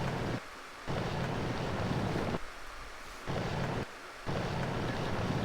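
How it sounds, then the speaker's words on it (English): Rushing water from a waterfall in Zoo Tycoon 2, a dense roaring wash that repeatedly drops in and swells back, steady and close with no voices. "Some waterfalls, there we go, that's what we wanted."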